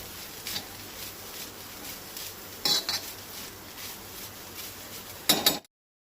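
Soy chunks and onion roasting in a pan for a Goan veg thali, a soft continuous sizzle punctuated by metallic scrapes and clinks of a spoon against the pan, the loudest near the end before cutting off.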